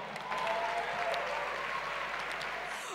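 A crowd applauds steadily for a few seconds, a dense wash of clapping at moderate volume.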